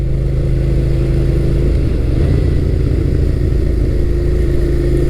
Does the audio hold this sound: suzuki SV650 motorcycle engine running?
yes